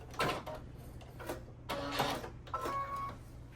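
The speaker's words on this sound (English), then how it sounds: "I'm just gonna put a stitch or 3 right there" Domestic sewing machine putting a few stitches into a DIY AirPod case, heard as short bursts of rapid mechanical whirring and clatter in three separate runs over a steady low hum, close by.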